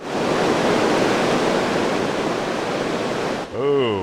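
A high, flooded river rushes after heavy rain, a loud, steady broadband roar filling the scene up close before cutting off as a voice briefly begins.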